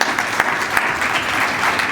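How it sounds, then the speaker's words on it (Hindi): Applause from a church worship congregation, a dense, steady wash of many hands clapping close by for a short burst, with no talk over it. "तालियां बजाएं"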